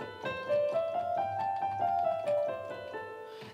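A minor scale or passage played on a melodic instrument, a run of clear sustained notes moving stepwise at a steady pace, moderately loud and close, with no talking.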